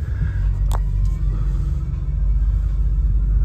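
A 2014 Toyota Tacoma pickup pulling forward, a low, steady engine rumble up close with a faint light click partway through.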